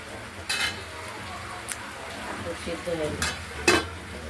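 River prawns simmer in fresh coconut milk in a pot: a steady low bubbling and sizzle runs throughout, with a few sharp scraping or stirring clicks on top.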